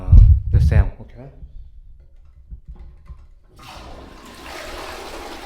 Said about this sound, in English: Now I'm gonna flush the toilet.